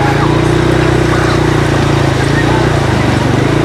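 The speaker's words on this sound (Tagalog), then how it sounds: "Dito tayo kasi mas malakas ang agos dito." Strong floodwater current rushing across a bypass road turned into a makeshift wading spot, a loud, steady broadband roar with a constant low churn and no breaks.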